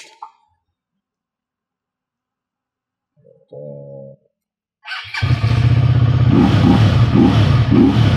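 A WMOTO Morbius 250 motorcycle engine starts, with a brief starter burst followed by a loud, steady running idle and revving that fills the last few seconds, close to the microphone.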